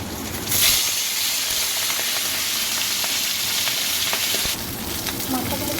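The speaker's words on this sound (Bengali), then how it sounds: "মাছের মাথা থেকে আমি নুন মাখিয়ে গরম তেলে ভেজে নেব।" Fish heads rubbed with salt frying in hot oil, a steady loud sizzle and hiss that starts abruptly and runs throughout, briefly easing near the end.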